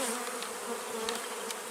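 Crowded honeybees clustered outside the hive in late April, a steady dense buzzing hum with no gaps, moderately close.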